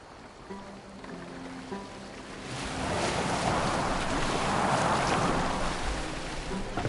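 A boat cuts through waves in Assassin's Creed Valhalla, a steady broadband wash of water and surf that swells louder midway and holds, with no voices over it.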